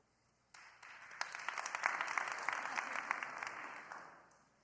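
Audience applause at a school board meeting rises suddenly into a steady patter of many hands, holds for several seconds, then fades away.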